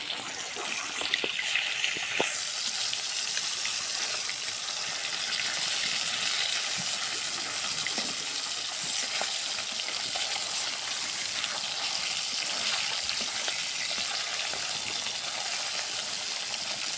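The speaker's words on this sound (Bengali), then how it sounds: "সুন্দর করে আমরা মাছগুলো ভাজে নেব।" Fish fry in hot oil in a home kitchen, a steady broad hiss and crackle that runs unbroken and fairly loud throughout, with no talking.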